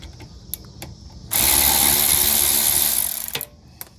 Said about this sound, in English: Gonna switch to the electric ratchet again, and a wrench.